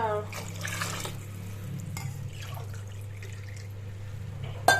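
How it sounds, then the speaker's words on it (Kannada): Water pours into a pot of ground masala paste for vegetable bath, a short splashing stream over a steady hum, ending with a sharp clink of a utensil. "ನಾಲ್ಕು ಲೋಟ ನೀರು ಹಾಕ್ತಾ ಇದ್ದೀವಿ"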